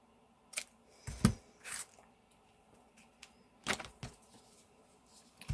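Scissors trimming paper for an art journal page, with a few crisp snips and brief rustles scattered over a quiet room, close and fairly soft.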